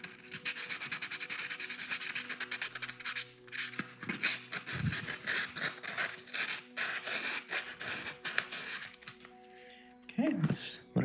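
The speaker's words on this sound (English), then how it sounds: "Go ahead and do 600 grit and just touch up these edges on these cuts just a little bit." Rapid back-and-forth rasping of 600 grit sandpaper touching up the cut edges of a handmade lock body, close and steady at first, then in shorter strokes with brief pauses and a voice speaking.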